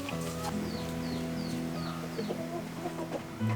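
Chickens kept by an elderly man for their eggs cluck close by in short, repeated bursts, with several birds overlapping against a quiet rural yard.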